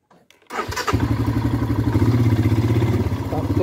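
A motorcycle engine starts after a short quiet moment and settles into a steady, close, throbbing idle as the bike is brought in through a home gate.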